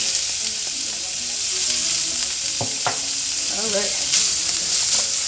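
Smoked sausage fries in a pan for shrimp and grits, a steady broadband sizzle running throughout with a few sharp utensil clinks and scrapes partway through; a voice speaks briefly once.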